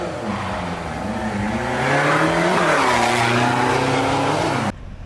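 A pickup truck or ute speeds past at about 130 km/h on a multi-lane Australian highway. The loud engine and tyre roar swells and bends in pitch as it passes close by, then cuts off abruptly.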